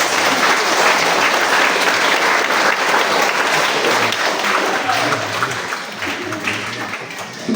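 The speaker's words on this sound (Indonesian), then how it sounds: "Mari kita tepuk tangan untuk mereka" A loud, sustained wave of applause from a church congregation honoring the ministers, choir, conductor, organist and musicians, thick continuous clapping that holds steady and tapers slightly near the end.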